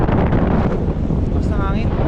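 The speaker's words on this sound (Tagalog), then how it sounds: "Basta hangin" Strong wind in Cornwall, England roars and buffets against the microphone in a steady, loud rush, with a faint voice briefly audible beneath the gusts.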